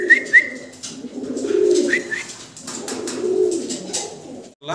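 Almond-colored Danish pigeons coo in soft, repeated throaty rolls, close by and fairly loud, with a few brief higher chirps between the calls.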